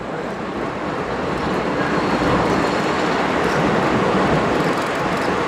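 A heritage train on the Naugatuck Railroad passes through a close-clearance rock cut, a loud, continuous rumble and rattle of rolling cars heard from on board, with no talk.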